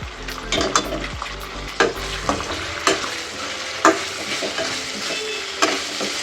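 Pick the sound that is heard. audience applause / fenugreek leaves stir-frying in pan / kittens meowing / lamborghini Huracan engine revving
fenugreek leaves stir-frying in pan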